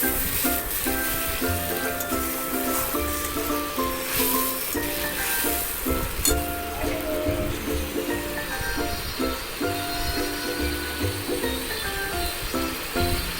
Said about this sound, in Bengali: এই যে সামান্য পরিমাণ মশলার জলটাই আমি দিয়ে দিচ্ছি এর মধ্যে।